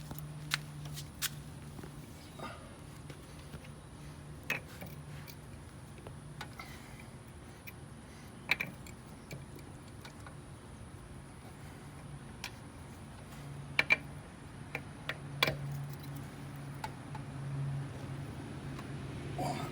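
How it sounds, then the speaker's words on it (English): Loosening the lug nuts on a car wheel with a wrench while the car is raised on a jack: faint scattered clicks and ticks of the wrench over a low steady hum, with a few sharper metallic taps. "pulling up, rotating to the counterclockwise direction, we can loosen these lugs"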